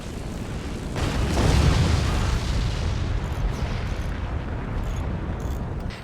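Warheads slam into a base in the strategy game Forts, a dense, loud rolling roar of overlapping explosions that swells in the first two seconds and keeps rumbling steadily to the end.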